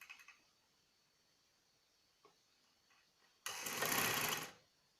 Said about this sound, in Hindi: इसको भी सिलाई लगा देंगे।